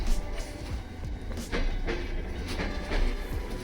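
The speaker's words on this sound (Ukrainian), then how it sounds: "Їде потяг." A passenger train on the Rakhiv–Sumy route rolls along, heard from inside a carriage with a steady low rumble and rhythmic clickety-clack wheel beats over rail joints.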